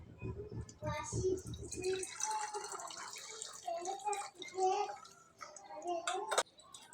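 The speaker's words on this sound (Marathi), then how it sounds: "उकळलेलं पाणी यात टाकून घेऊ" Water trickles and splashes as it is poured into a glass, with a voice speaking briefly at the start.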